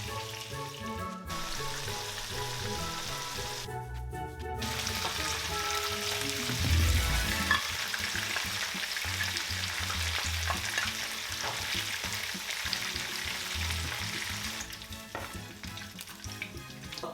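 Chicken frying in hot oil for KFC-style fried chicken, a continuous loud sizzle and crackle throughout with occasional stirring and clinks.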